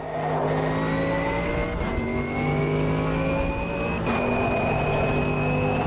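A GT3 race car engine in a racing video game screams steadily at high revs, pitch climbing through gears with two brief shift dips, loud and close with no talking.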